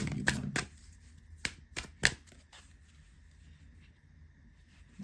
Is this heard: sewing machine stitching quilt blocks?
no